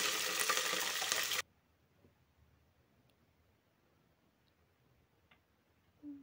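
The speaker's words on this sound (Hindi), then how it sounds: "ऑयल भी गर्म हो चुका है अब हमने इसमें मटन डाला है" Mutton hits hot oil already seasoned with dried red chillies and garlic cloves for a Kashmiri-style mutton soup, giving a loud, dense sizzle for about a second and a half before cutting off abruptly to near silence with faint ticks.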